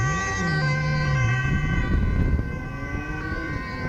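An emergency vehicle siren wails steadily amid loud, busy street noise in Zoetermeer, Netherlands, its rising and falling tone carrying over a constant background roar.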